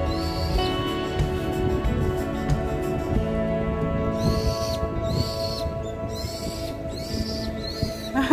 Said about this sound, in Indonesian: Burung pun lagi menikmati bunga sakura.